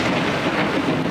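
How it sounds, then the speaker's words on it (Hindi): Thunder rumbles under steady heavy rain, a dense, loud wash of downpour with no voices. "गरजते बादल"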